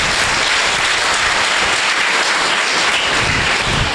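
Church congregation at a Sunday service applauding, a dense, steady wash of many hands clapping at full volume for several seconds with no talk over it.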